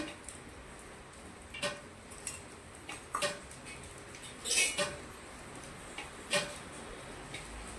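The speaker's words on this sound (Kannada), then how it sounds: "ಫಸ್ಟ್ ಒಂದು ಕಡಾಗಿ ಇಟ್ಕೊಂಡು ಒಂದು ಎರಡು ಮೂರು ಚಮಚದಷ್ಟು ಎಣ್ಣೆ ಹಾಕೋರಿ" A kadai set on the stove with oil spooned in for vegetable kurma gives scattered light metallic clinks and taps. They come singly and in small clusters over quiet background noise.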